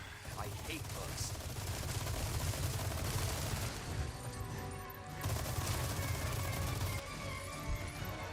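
Sustained turret gunfire in the video game Resident Evil 4 Remake, a loud, dense burst of rapid shots and heavy impacts that keeps going with only brief breaks, with someone speaking over it.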